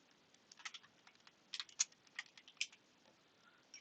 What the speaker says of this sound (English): Go ahead and type in your text